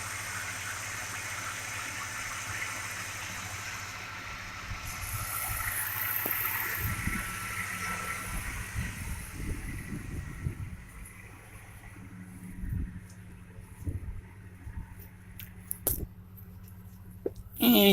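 A 1998 Ford F-150 pickup on a test drive with a number-four cylinder misfire: steady low engine and road rumble throughout, some broadband wind or tire hiss early on, and a few sharp clicks or knocks near the end.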